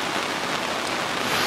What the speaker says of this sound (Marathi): पावसाचे दिवसच आहेत आणि नेमका पाऊस चालू झाला.